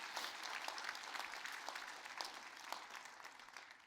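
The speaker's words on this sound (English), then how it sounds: "give them a round of applause" A graduation ceremony audience at a university applauds the graduates, a broad wash of many hands clapping continuously, fairly distant and soft, with no speech over it.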